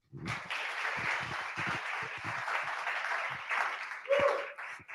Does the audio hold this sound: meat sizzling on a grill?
no